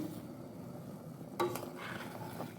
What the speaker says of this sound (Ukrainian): вже будуть закипати.